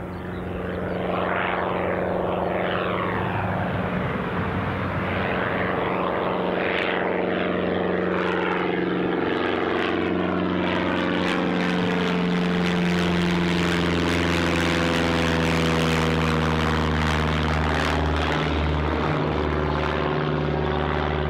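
A propeller aircraft at Newcastle International Airport drones loudly and steadily, its engine pitch slowly shifting as it runs up and moves, the sound sustained for the whole stretch without talk.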